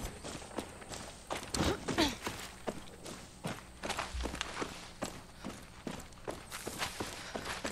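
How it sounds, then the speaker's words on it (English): Footsteps crunching through grass in Far Cry 6, a steady walking rhythm of loud, close treads repeating across the stretch with faint game ambience underneath. "Why are my footsteps so loud in grass?"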